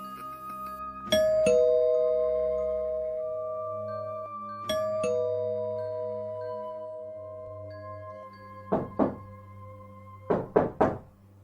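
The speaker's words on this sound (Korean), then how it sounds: "갑자기 누군가 초인종을 누르더군요" A doorbell chimes a clear two-tone ding-dong, with each tone ringing out and decaying, then rings again the same way. A few sharp knocks on a door follow, alone and close.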